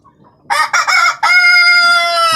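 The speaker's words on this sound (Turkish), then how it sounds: "bu horozumuzun adı Bektaş" A rooster crows loudly and close by, a broken opening followed by a long, sustained harmonic call.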